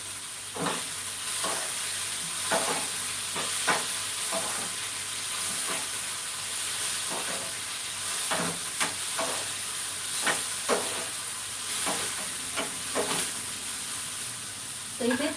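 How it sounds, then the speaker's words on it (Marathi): Chopped ginger and masala frying in a pan for paneer masala, a continuous close sizzle with repeated scraping strokes of a spoon stirring at an irregular pace throughout. "हे भाजून घ्यायचं आहे अगदी लाल होईपर्यंत"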